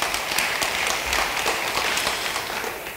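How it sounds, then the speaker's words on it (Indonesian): A church congregation applauds during a sermon, with a thick, continuous wash of many hands clapping at a steady level from start to finish, fading slightly at the end. "beri tepuk tangan bagi dia"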